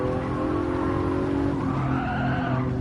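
A car drifting in the Gran Turismo 7 video game on a Tokyo circuit, with a sustained loud tire skid and squeal over a steady engine drone, shifting in pitch partway through.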